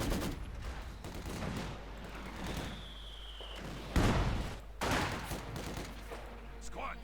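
Bursts of Sturmgewehr assault rifle fire crackle in Company of Heroes 2 amid a busy battlefield, several sharp volleys and rattling shots among other combat sounds, with someone talking over much of it.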